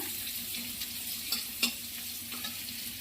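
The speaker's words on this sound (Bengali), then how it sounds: "একটু ভাজবো এটা" Steady close sizzle of garlic and dried chili frying in hot oil, with a couple of soft stirring scrapes partway through; no talking.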